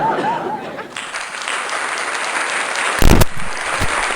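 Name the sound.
applause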